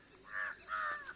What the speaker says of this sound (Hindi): इतने पक्षियों की आवाज़ मधुर सुनाई देती है।